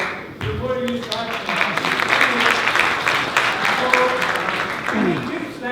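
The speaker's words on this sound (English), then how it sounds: "I want to clap before you start." Applause rises in a room at a film press conference at the Indian Consulate in New York, loud and continuous clapping mixed with voices talking over it.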